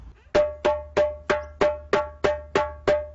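A steady run of ten crisp tone strokes on a hand drum played with closed fingers, each a bright, ringing hit with a quick decay, evenly paced and close-miked.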